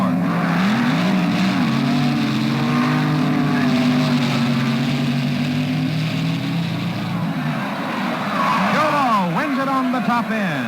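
At the 1967 NHRA US Nationals, a Dodge-powered rail and a Chevy-powered dragster roar down the strip, engines loud and sustained with rising and falling pitch as they pass, while an announcer talks over the noise.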